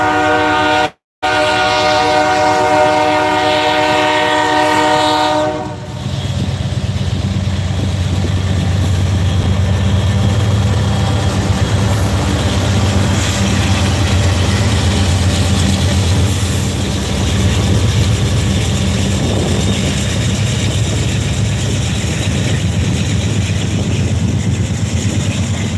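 A loud CSX train horn blares for several seconds at a railroad crossing with malfunctioning gates, then a locomotive rumbles past at close range, a heavy continuous roar of wheels and engine.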